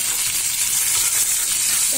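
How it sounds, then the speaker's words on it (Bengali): Cumin seeds tempering in hot oil for a fish curry crackle and sizzle continuously and fairly loud from close by, a dense steady frying hiss without speech. "তেলটা দেওয়ার পর এবারে আমি এখানে একটু জিরে ফোড়ন দেবো।"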